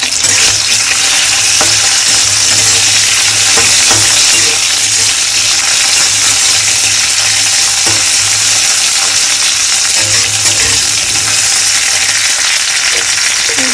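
Cauliflower and potato fry in a pan with a loud continuous sizzle, broken by scraping stirs and light clinks of the utensil, close up.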